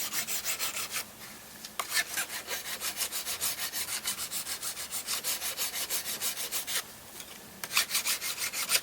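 A metal file rasps back and forth over the edge of an aluminum patch on an Airstream trailer, taking off the burr in close, rapid, even strokes, with two short pauses between bursts.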